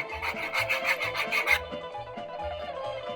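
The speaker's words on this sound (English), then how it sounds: "now we're slowly going to take the juice from the soup and incorporate it in while we're whisking it" Eggs are whisked with hot soup juice in a bowl for Greek lemon meatball soup, a quick, regular scraping rhythm of strokes, close and fairly loud.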